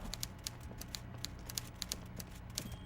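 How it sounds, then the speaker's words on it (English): A typewriter in the video game Disco Elysium taps out a steady run of sharp keystrokes at an uneven rhythm, moderately near, over a low ambient hum with no speech. "I hear a typewriter."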